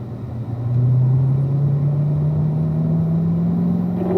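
A car circling a race track through the turns, its engine a steady close drone that climbs slightly in pitch, with no voices over it.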